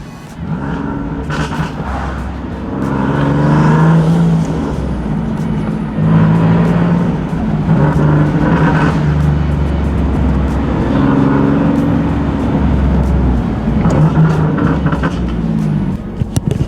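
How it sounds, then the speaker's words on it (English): A loud car engine roars and revs in repeated surges, rising and falling as the vehicle accelerates, close and continuous. "Feels so good to drive a fast car again."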